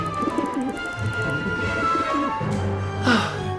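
A pigeon in the game Syberia: The World Before gives repeated soft, low coos close by, a burbling rhythmic call against a quiet ambient background, with no talking.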